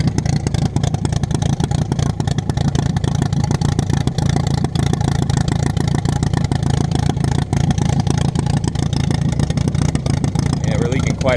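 An old car's engine idles steadily while running very rich, a continuous low rumble with rapid firing pulses that holds nearby for the whole stretch, with talk over it.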